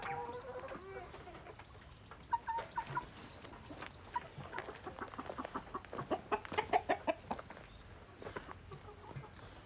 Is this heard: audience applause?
no